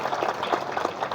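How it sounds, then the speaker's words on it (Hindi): An audience applauds female ITI Jhabua students at a ceremony, a short burst of scattered clapping that sounds faint and somewhat distant. "आप लोग जोरदार तालियों से इन बच्चियों का"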